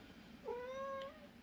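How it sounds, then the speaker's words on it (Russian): A cat gives a single short, clear meow close by, rising then falling, against a quiet indoor background. "Котики должны говорить мяу, а не му."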